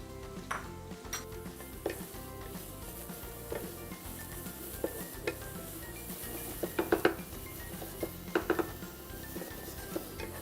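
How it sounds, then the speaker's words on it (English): Grated cauliflower sautéing in a pan with nuts, giving a steady low sizzle under repeated light clinks and scrapes of a spoon against the pan, close by, with a quicker cluster of taps midway and no voices. "So we will cook the cauliflower until it gets a nice golden color."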